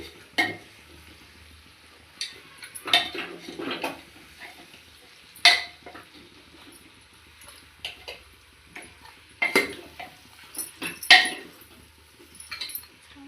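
Onions stirred into oil in a cooking pot with a spoon: scattered scraping and clinking strokes against the pot, spaced a second or two apart, over a faint quiet sizzle.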